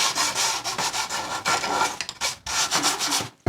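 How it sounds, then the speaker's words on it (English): A Scotch-Brite pad scrubs plaster off an old piece of equipment in quick, loud back-and-forth strokes. The rubbing rasps close up, with a few brief pauses between bursts. "get a Scotch-Brite pad and see if I can scrub some of this stuff"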